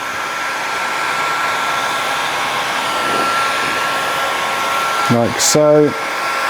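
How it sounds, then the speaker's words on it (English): A heat gun blows a steady, even whoosh while warming the edge of vinyl wrap on an Abarth 124 Spider, with a brief spoken remark and a short squeak near the end. "we're just going to run the heat gun over the top of it"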